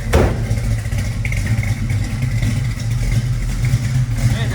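A 1966 Chevy Nova with a built small block V8 and 4-speed idles with a deep, lumpy rumble, running steadily and loud nearby, with a brief sharp clatter at the start.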